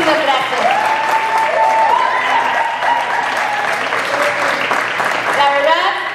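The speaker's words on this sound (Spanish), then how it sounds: "Que un fuerte aplauso para todos ustedes." Audience at a Zumba event in Nogales applauds steadily, a dense wash of clapping from a sizable crowd heard up close, with a voice speaking over part of it.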